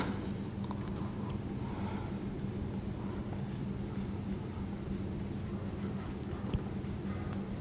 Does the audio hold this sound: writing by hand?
yes